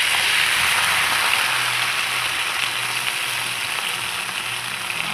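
Sardines hiss and crackle in a pan with sautéed garlic and a little water, a steady, dense sizzle held close and loud without a break.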